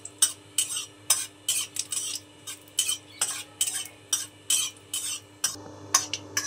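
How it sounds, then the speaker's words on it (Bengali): Mustard seeds, dried chili and curry leaves frying in oil while a utensil scrapes the pan, a close series of rhythmic metallic stirring scrapes, about a dozen strokes over a faint sizzle. "এবার সমস্ত উপকরণগুলো একটু ভেজে নেব।"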